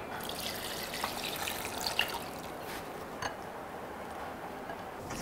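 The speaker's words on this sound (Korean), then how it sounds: "물김치 국물 만든 거를 여기다 부어주세요." Water kimchi broth for spring cabbage kimchi pours through a strainer, a soft continuous trickle and splash with a few faint drips and clicks, fairly quiet.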